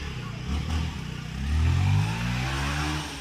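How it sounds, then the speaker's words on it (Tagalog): A motorcycle engine idles roughly, then revs up in a strong rising swell and settles into a steady throttled drone, close and fairly loud, with no voices over it. "Ang ganda pa ng tunog ng ano, makina ni Kabungot."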